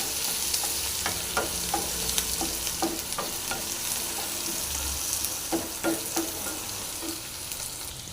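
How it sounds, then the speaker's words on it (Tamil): Sambar onions frying in a pan, a constant close sizzle broken by regular scraping strokes of a spatula, with a low brief rumble near the middle. "சாம்பார் வெங்காயம் இது நல்லா ஃப்ரை பண்ணிங்க"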